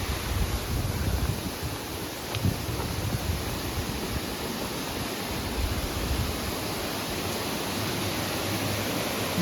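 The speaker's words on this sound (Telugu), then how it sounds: "అందమైన వాటర్ ఫాల్ చూడండి, ఎంత బాగుంది." A waterfall in a Nepal forest rushes steadily as a dense, unbroken roar of falling water, loud and close, with no voices over it.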